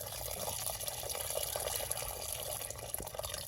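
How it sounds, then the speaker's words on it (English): Water pours steadily into a hydroponic grow bucket for cherry tomatoes, a faint continuous trickle and splash with small drips, heard alone at low level. "We're still watering."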